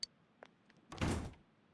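A door opens in the video game Persona 4 Golden. There are a few faint clicks, then a short, soft sliding thud lasting about half a second.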